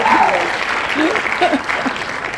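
Comedy club audience applauding comedian Laniea at a women's stand-up show, a dense steady wash of clapping with voices cheering over it throughout.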